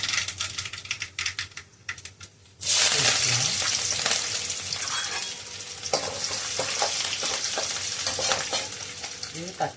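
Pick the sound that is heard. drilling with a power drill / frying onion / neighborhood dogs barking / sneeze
frying onion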